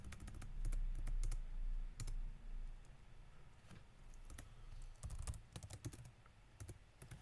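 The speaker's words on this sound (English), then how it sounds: "I don't know what I'm typing," Fingers type on a computer keyboard in irregular bursts of sharp, close clicks with short pauses between runs of keystrokes, and no voice over them.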